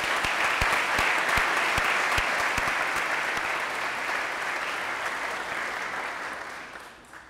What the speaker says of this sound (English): please join me in honoring the achievements of all of our students this year with a round of applause